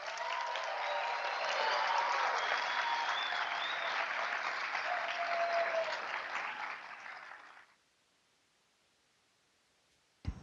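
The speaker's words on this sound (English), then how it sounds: "Everybody, can we give her a big round of applause?" University of New Mexico student audience applauding an astronaut on an International Space Station link, a full steady round of many hands for about seven seconds before it fades to near silence, ending in a brief click.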